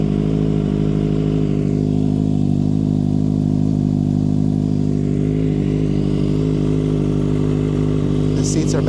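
A 2025 Kawasaki ZX-6R with an M4 Street Slayer slip-on exhaust idles loud and close, with a steady deep rumble that lifts slightly under light revs and brief voices near the end.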